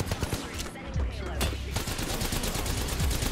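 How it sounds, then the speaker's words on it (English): Sustained automatic gunfire from a character's weapon in Apex Legends, a rapid stream of loud shots with in-game effects layered over it, lasting the whole stretch. "Look at all the bullets coming out of his gun, okay?"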